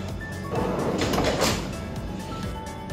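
An aluminium kitchen cabinet drawer slides open with a rolling metallic rumble that swells for about a second, then settles into quieter rattles, close up and without speech.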